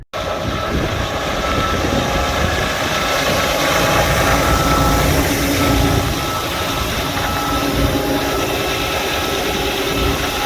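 A tractor engine idles steadily and loudly, a continuous low rumbling drone with no talking throughout.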